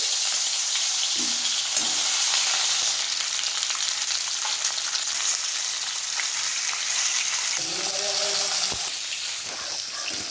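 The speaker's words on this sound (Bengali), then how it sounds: "কড়াতে এবার তেল গরম করে নিচ্ছি মাছগুলো ভালো করে ভেজে নেব" Fish frying in hot oil in a wok, a steady loud sizzle running throughout with occasional stirring clinks, heard alone without talk.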